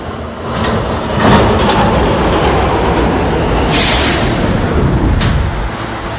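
A K subway train in the Roblox game PTA runs on its line, giving a loud continuous rumble with rattling rail noise and a few sharp hissing bursts. No voices are heard.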